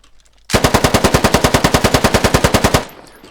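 Rapid automatic gunfire from a rifle fitted with a front grip in the video game Squad, a loud steady burst of about twenty evenly spaced shots lasting a couple of seconds, then a brief tail of echo.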